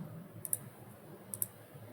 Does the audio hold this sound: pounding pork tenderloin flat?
no